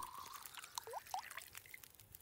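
Water being collected in The Long Dark, a pouring, trickling sound with small splashes and drips, faint and continuous without any talk.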